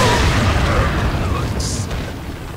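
A grenade explodes in Resident Evil 4 Ultimate HD Edition, a loud, broad booming blast that fills the whole short stretch and fades slowly, with voices over the game sound.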